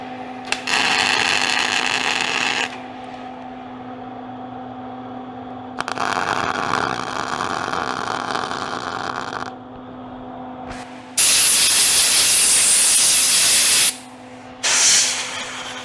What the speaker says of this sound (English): let's get this little feller here tacked in.